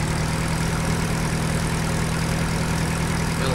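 A tractor engine idles steadily in Farming Simulator 2013, a constant low rumble with an even mechanical throb, close and unbroken with no talking.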